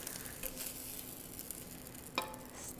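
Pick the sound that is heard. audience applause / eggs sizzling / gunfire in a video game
eggs sizzling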